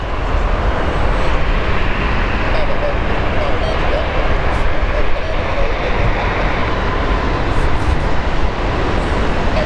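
United Boeing 787 airliner at London Heathrow, a loud, continuous jet engine roar that stays steady throughout without a clear rise or fade.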